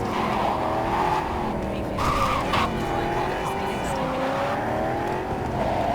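Car driving with tire squeal and skidding in Cyberpunk 2077, a continuous engine roar with screeching tires rising in the middle, steady and fairly loud throughout.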